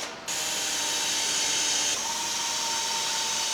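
A power drill bores holes for plastic rivet nuts while a side splitter kit is fitted to an FK8 Honda Civic Type R; a steady, loud, close whirring drone runs throughout, with a slight shift in pitch partway through.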